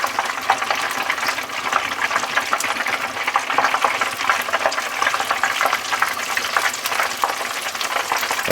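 Pieces of fish deep-frying in hot oil give a steady, dense bubbling sizzle close to the microphone, continuous and even throughout with no talking.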